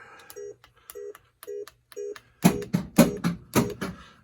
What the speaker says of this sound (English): You can hear a few solenoids firing